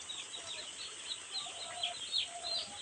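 Chicken chicks bought cheaply by the piece, cheeping in a small group, with repeated high thin peeps over steady background noise, fairly faint and continuous.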